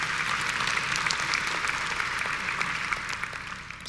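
A conference audience applauding, a dense wash of steady clapping heard throughout and tapering slightly toward the end.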